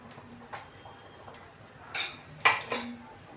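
A metal spoon crushes chopped bathua leaves in a dish, giving a few scattered soft taps and then several sharper clinks and scrapes close by, with no talking.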